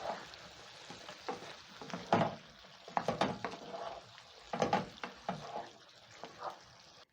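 Assorted peppers stirred into a simmering vegetable stew, with scraping and sloshing strokes in an irregular rhythm, close and moderately loud over a soft sizzling bubble, with no talking.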